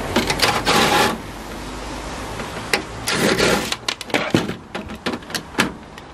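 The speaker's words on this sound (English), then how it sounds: "Let me just get the screwdriver on this." Screwdriver working on a motor inside a scrap microwave, a run of close, sharp metallic clicks and rattles in quick bursts with short pauses between them.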